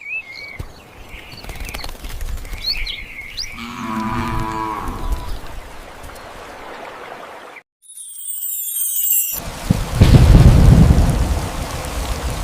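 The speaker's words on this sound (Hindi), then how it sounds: "बाहर मूसलाधार बारिश, झोपड़ी की छत से टपकता पानी, बिजली की गड़गड़ाहट।" Steady downpour on a hut roof with low rumbling thunder swelling near the end, and a lowing cow calling partway through before a brief silence.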